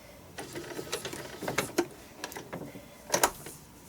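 Sewing machine stitching around a paper pieced quilt block, short bursts of rapid mechanical clatter separated by pauses, fairly faint and close.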